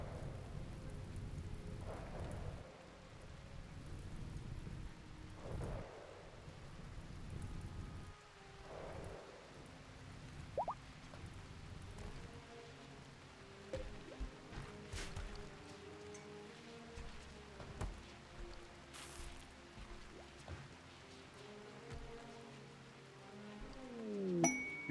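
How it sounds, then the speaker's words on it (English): Rain patters steadily in a video game, with soft scattered drops and occasional faint dings and thuds from the game over a low background. "And now it's finally raining."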